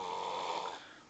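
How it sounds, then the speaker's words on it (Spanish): A person snores in one steady, close, raspy inhalation that fades slightly toward the end. "Deja de roncar, mamá ñema."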